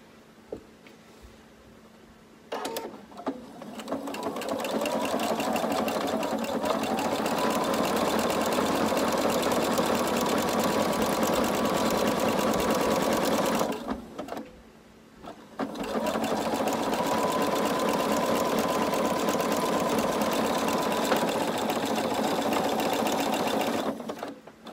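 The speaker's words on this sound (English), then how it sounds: "Next, I'm going to sew my waistband piece together." A sewing machine stitching the waistband of a simple maxi skirt runs loud and steady in two long bursts, with a short pause between them and quiet before the first.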